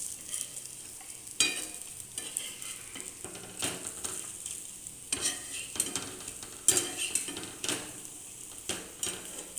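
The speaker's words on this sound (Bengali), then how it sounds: "আর কি সুন্দর ভাজা হয়ে যাচ্ছে।" Bori batter fritters fry in a pan while being stirred, giving a soft, constant sizzle broken by scraping strokes and light clinks of a utensil against the pan.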